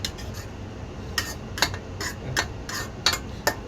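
Vegetables with capsicum, onion and tomato sautéed in a pan, a spoon repeatedly scraping and clinking against the metal in sharp taps over a steady low sizzle, several distinct strikes spread across the moment.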